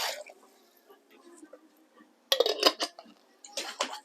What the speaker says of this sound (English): I like to put a bit of water in the jar and shake it about